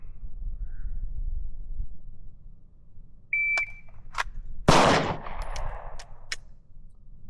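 Pistol fire in a Bill Drill on a range: a shot timer's electronic beep sounds, then a few sharp shots crack in quick succession, close and loud against a quiet background.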